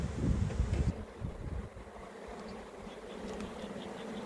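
A dense, steady buzz of many bees close by during a spring hive check, loudest at first with a muffled thump of handling frames, then settling into a continuous drone.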